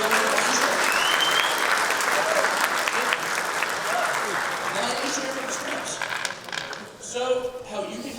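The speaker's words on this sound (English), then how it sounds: "Round of applause for 2nd place" Audience applause at a security conference closing ceremony, steady clapping from a crowd for several seconds that thins toward the end, with voices and cheers mixed in.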